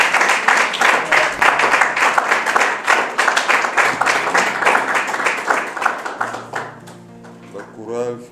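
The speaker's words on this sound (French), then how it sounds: "Est-ce que nous pouvons faire une acclamation, frères et sœurs, pour la chorale?" A church congregation at a Sunday service claps for the choir, steady dense applause lasting several seconds before fading as a voice begins speaking over the tail end.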